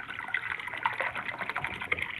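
Water trickles and pours steadily into a container for a couple of seconds, close by, with no talking.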